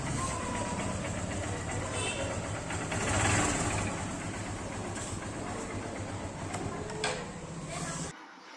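A 2019 Honda Unicorn 150 motorcycle engine idles with a steady, close mechanical rumble and light knocking, cutting out abruptly near the end.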